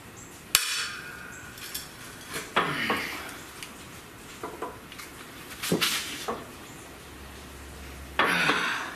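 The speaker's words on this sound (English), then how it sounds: "I'm gonna break my hammer." Metal hammer blows strike a Chrysler/Dodge AAM 9.25 front differential pinion in a workshop, several irregularly spaced sharp clanks and knocks of varying loudness, with quiet handling noises between them.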